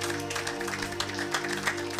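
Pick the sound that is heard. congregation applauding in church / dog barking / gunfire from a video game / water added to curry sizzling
congregation applauding in church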